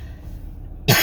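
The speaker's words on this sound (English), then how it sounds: "You're still a little lingering cough," A single short cough bursts out at the very end after near-quiet room tone, close and fairly loud, from someone recovering from illness with a lingering cough.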